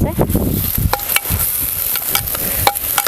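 Garlic and green chili fry with onion and tomato in a pan, giving a steady sizzle while a spoon stirs and scrapes in repeated strokes, close and fairly loud.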